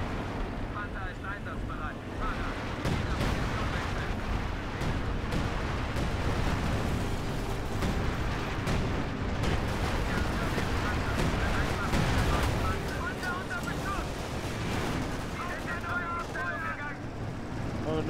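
Airstrike explosions and battlefield gunfire in the WWII strategy game Company of Heroes 2, a dense, continuous roar of blasts and rumbling fire lasting throughout.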